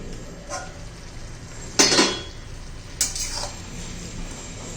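Metal lid lifted off a cooking pot of cauliflower and pea curry, two sharp clanks about a second apart over quiet kitchen background, close and moderately loud.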